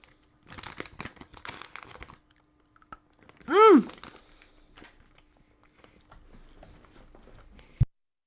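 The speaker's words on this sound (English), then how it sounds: "You guys don't want to hear me chewing" Chocolate being chewed and crinkled in its wrapper close to the mic, with soft crunchy mouth noises and rustling spread through the clip and a short loud squeaky tone partway in.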